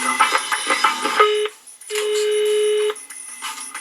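Telephone tones sound for a call placed from a radio morning show to a bakery: a short run of beeps, then a longer steady electronic tone, all close and clear.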